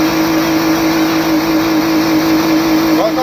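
Car engine running steadily and loud throughout during a vehicle repossession, with a constant low drone.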